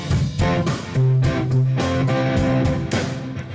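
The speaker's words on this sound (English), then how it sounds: "that's the sound of the Cooper Time Cube delay, dotted eighth quarter note, and then the Lexicon 224 reverb" Rhythm guitar chords ring out through a Cooper Time Cube delay set to dotted-eighth and quarter-note repeats and a Lexicon 224 reverb, a steady sequence of strummed hits with echoing tails and no talking.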